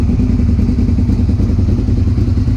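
A 2001 Suzuki SV650S V-twin motorcycle with an aftermarket exhaust runs close by, its loud, throbbing, lumpy engine note pulsing steadily without a break and no talking over it.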